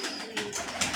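A breeding pair of pigeons coos close by in their loft, two or three quick throaty calls rising in short bursts over a soft noisy background.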